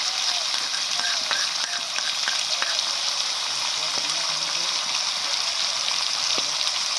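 Chopped tomatoes and ground spice paste sizzle steadily in hot oil with chicken, a loud, continuous frying hiss with faint stirring clinks underneath and no talking.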